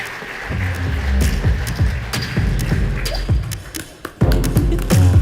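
A ballroom audience at the D.I.C.E. Awards claps steadily and loudly, a dense spread of hand claps that dips briefly near the end and then surges again.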